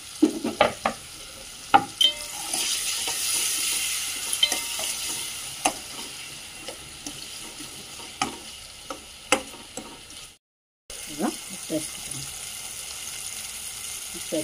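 Tomatoes with turmeric frying in a pan, with a steady soft sizzle under scattered clicks and scrapes of stirring, a short silent gap near the end, no talking.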